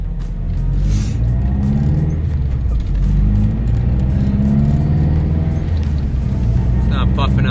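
A small rallycross race car, a newly bought build without a name, drives with a steady low engine rumble and whir at close range, holding an even drone while people talk over it.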